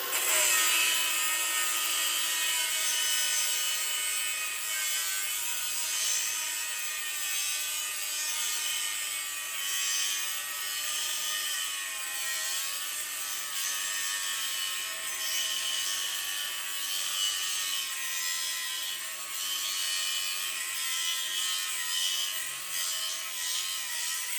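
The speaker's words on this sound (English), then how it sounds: "So now that you've got this scribed all the way along, you've got somewhere for your grinder to follow." An angle grinder cuts along a scribed line, giving a loud, steady, high-pitched whine that runs the whole time with small wavering in pitch and no talking.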